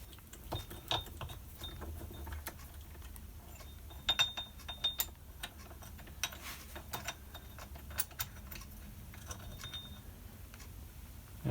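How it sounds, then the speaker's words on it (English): A socket-headed banjo bolt is worked out of the leg of a Sportster Sport 1200 front fork clamped in a vise, giving soft, scattered ratcheting clicks against a quiet background. "So now we need to remove the socket headed bolt"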